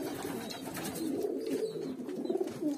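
Hünkari pigeons coo softly in a low, repeated murmur, a steady throaty burbling that continues close by and alone, with no voices over it.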